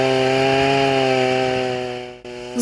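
A loud motorized saw cutting ice on frozen Lake Karakul drones steadily with a strong engine hum, briefly cutting out near the end before roaring back up.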